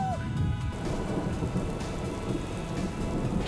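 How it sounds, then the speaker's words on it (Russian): Heavy rain pours down steadily in Kuala Lumpur while deep thunder rumbles in the distance, a dense, continuous roar of a tropical downpour. "это тропический дождь."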